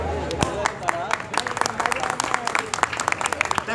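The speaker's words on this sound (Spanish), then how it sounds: "Si les gusta lo que yo hago, aplausan, aplaudan bastante." Audience applause for a poet at a Día del Poeta cultural event in Envigado, a dense wash of many hands clapping fairly loud and close, with some voices mixed in across the crowd.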